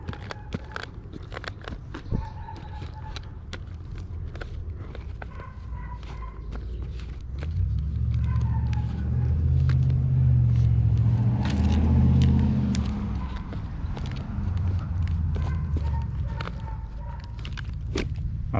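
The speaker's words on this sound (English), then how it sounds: "This car's just been bashing. It's literally just been running in a lot full of dusty mess." A Redcat Kaiju 4S RC car bashing around a dusty lot, its electric motor whining and rising to a louder, closer surge midway, with gravel crunches and sharp clicks scattered throughout.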